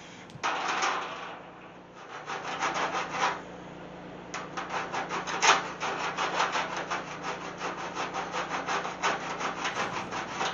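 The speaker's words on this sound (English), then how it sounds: "Here I'm just using a Bondo cheese grater, and it actually worked pretty good because the lead was soft enough." Soft lead is shaved with a Bondo cheese grater on a vintage steel glider under restoration, making close, repeated raspy strokes in a steady back-and-forth rhythm with a brief pause partway through.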